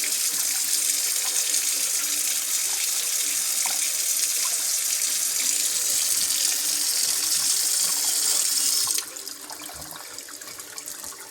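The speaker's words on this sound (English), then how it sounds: "The water pump should have been kicked in by now." Water gushes steadily and loudly from a tap fed by a household water pump, in a home running on power from a Chevy Bolt EV, then drops to a quieter flow near the end.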